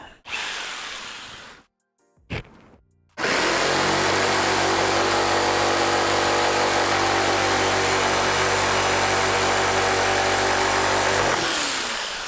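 An orbital power tool rounding the edge of oak veneer plywood starts with two brief bursts, then runs as a loud, steady buzzing whine for about eight seconds before stopping.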